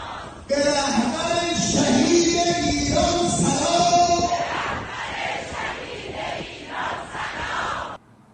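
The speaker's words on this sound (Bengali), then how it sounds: "ইরানের হাজিরা আমেরিকা এবং ইসরায়েলের ধ্বংস কামনা করে স্লোগান দিয়েছেন" A large crowd of Iranian pilgrims at the Hajj gathering chant slogans in loud unison, rhythmic shouted phrases repeating over several seconds before the voices thin out and stop.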